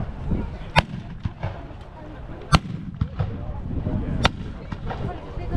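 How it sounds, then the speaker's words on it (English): Musket volleys at a Sealed Knot English Civil War reenactment in Margam Park, several loud sharp reports at irregular intervals over crowd murmur and outdoor ambience. "Musket fire."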